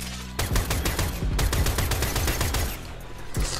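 A Latron Prime rifle fires in the video game Warframe, a loud, steady burst of rapid, evenly spaced gunshots over about three seconds, starting abruptly and ending in a brief tail.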